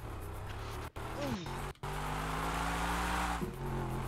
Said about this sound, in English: Yo, this car actually sounds crazy.